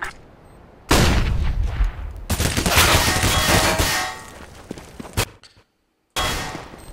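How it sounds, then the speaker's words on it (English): In Counter-Strike, a thrown flashbang goes off with a sudden loud, harsh bang. Crackling, clanging game noise follows, then a brief dead-silent gap before the loud sound cuts back in. "Throwing a flashbang."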